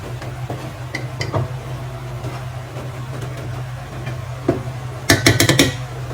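Mutton and onions stirred in a pot make soft scraping and occasional clanks of a spoon against metal over a low steady hum, ending with a quick cluster of sharper knocks.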